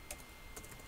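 A few quiet, close keystrokes on a computer keyboard tap out in a short irregular burst, with soft clicks separated by brief pauses and no voices.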